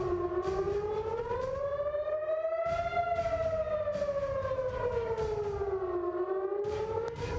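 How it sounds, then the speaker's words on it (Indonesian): An air raid siren in Tel Aviv wails loudly and continuously during a missile attack, its tone slowly rising and falling, with no voices over it. "sirine serangan udara meraung di seluruh penjuru Tel Aviv"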